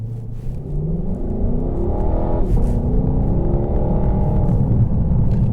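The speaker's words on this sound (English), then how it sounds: "Do you hear that beautiful sound of the engine?" A Lexus LC 500 engine in comfort mode hums while the car drives on the road. It is a deep, steady rumble with a gently rising pitch as the car accelerates, heard from inside the cabin.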